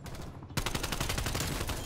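AK-74u fire in Black Ops Cold War, a sustained rapid automatic burst of close, loud, evenly spaced shots that starts abruptly after a brief lull and runs to the end.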